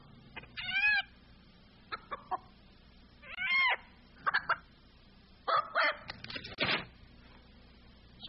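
Chickens clucking and a rooster calling in a Carl's Jr. chicken breast strips commercial, several short loud bursts of squawking and clucks spaced across the clip over a low steady background.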